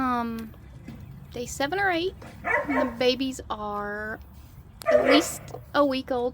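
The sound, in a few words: dogs barking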